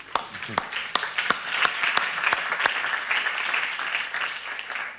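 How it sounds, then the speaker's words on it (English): Steady applause from an event audience, dense continuous clapping with a few sharper individual claps standing out, moderately loud and sustained throughout. "Give everyone a round of applause"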